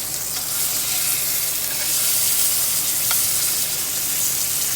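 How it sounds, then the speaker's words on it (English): Steak sizzling loudly in a hot pan just after being flipped, a dense, steady hiss with occasional faint pops, close and constant, no voices. "we're going to go ahead and flip it to the other side"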